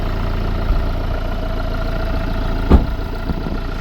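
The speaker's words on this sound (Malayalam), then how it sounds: "നമ്മുടെ വണ്ടിയുടെ എൻജിൻ സൗണ്ട് ഒന്ന് കേൾക്കാം." A Ford Tourneo Custom van's 2-litre diesel engine idles with a steady low rumble, close and alone, with one brief louder knock partway through.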